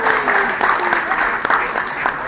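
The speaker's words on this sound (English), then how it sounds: "I think that's a big round of applause again for Bob for all that he's done for us." An audience at the 2020 Groundhog Day breakfast in Woodstock, Illinois applauds Bob, a moderate wash of clapping with some voices mixed in.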